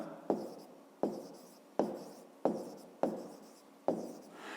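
A pen writes a maths solution by hand, six quiet, evenly spaced strokes scratching across paper close up, each fading out before the next.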